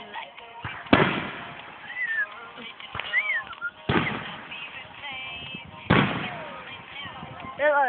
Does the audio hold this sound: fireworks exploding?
yes